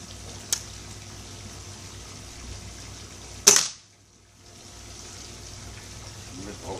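A pellet gun fired outdoors at a range gives a single sharp crack, with a fainter click earlier and quiet background hiss around it.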